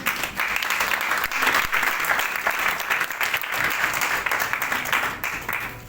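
A church congregation claps and applauds together during a worship service, steady dense applause sustained for several seconds with a faint voice underneath.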